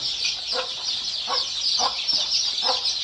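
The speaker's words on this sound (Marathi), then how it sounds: "कोंबडी आहे इथं" A free-range village hen clucks repeatedly among her chicks, a series of short rhythmic clucks over a constant high chirping of the brood, with no talk.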